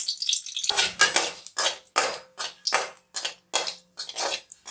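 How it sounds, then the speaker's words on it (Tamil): Dried red chillies hitting hot oil in a kadai while making village-style ridge gourd chutney, giving a close, steady crackling sizzle with repeated bursts of spitting and the scrape of a spoon. "எண்ணெய் சூடாயிடுச்சு. வரமிளகாய் சேர்த்துக்கலாம்."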